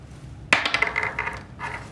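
A stone dropped into a sword-blade spice grinder lands with a sharp hard clatter, then rattles and bounces around the metal bowl in a quick run of clicks, with a second brief rattle after a short pause.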